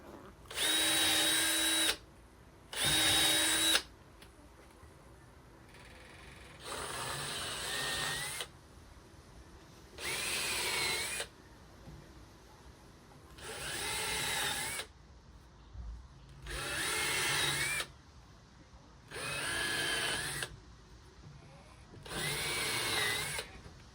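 A power drill whirs in a series of short bursts, about nine in all, each driving a 15–20 mm screw into a table saw crosscut sled, with quiet pauses in between.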